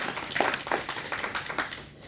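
An audience claps after a poet's recitation, a short burst of dense overlapping hand claps at moderate distance with no voices.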